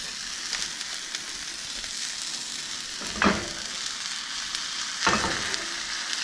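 A squash scramble sizzles steadily in a well-seasoned cast iron pan while a utensil stirs and scrapes it, with two louder scrapes standing out against the constant frying.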